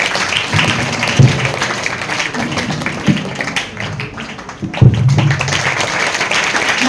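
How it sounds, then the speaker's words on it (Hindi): Students at a Teacher's Day function at a high school in Sangamner clap for their teachers, a steady wash of applause with a few sharper bursts, fairly close and sustained throughout. "तमाम तालिबात तालियों के जरिए अपने असातिज़ा का इकराम करें"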